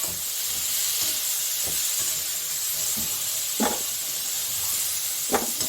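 Raw jackfruit pieces frying in a pan give a steady, loud hiss and sizzle throughout, with a few brief clinks or scrapes standing out near the end.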